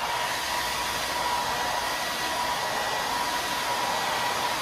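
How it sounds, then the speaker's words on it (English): A blow dryer heating a racquet bumper guard during a racquet repair, a steady, loud, unbroken whooshing roar of the motor and airflow that runs the whole time at close range, with no talking. "we're gonna go back to the blow dryer"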